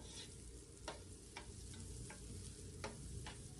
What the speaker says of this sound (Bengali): চালটা ভালো করে ভেজে নেব